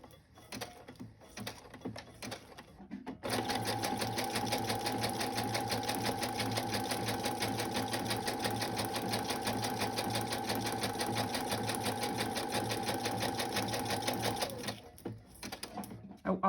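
Sewing machine running a zigzag stitch with blue thread on a pattern paper pocket, a steady fast mechanical whir lasting about eleven seconds, with brief handling noises before and after, close by.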